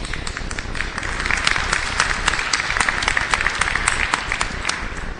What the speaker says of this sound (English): I assume it was someone from Sprint who started that applause